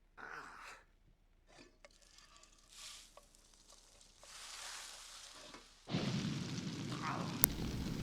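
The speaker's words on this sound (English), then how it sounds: "Practice frying the chicken." Hissing sizzle of chicken frying in The Sims 4 video game, quiet at first and then a louder steady crackle from about six seconds, with a few scattered pops and bursts.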